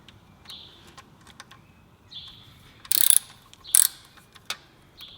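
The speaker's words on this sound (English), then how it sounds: "go around in a pattern and just loosen them all" A hand ratchet loosening engine bolts on a VW Golf MK3 VR6, with sparse clicking bursts and two louder metallic clattering spells, close up and with no talking.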